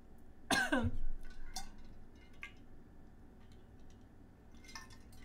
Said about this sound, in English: I do this thing where I breathe in too quickly sometimes and I start coughing